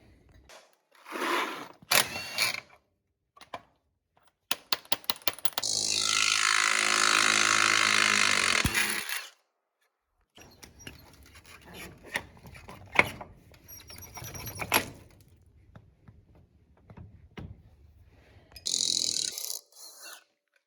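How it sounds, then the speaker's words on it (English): Hand-tool work removing bolts on a Polaris Ranger 800 XP utility vehicle: quick ratchet clicks, a sustained whirring run of several seconds, then scattered metallic clinks and scrapes with pauses between them. "Now we're going to focus on taking our bolts off here and here."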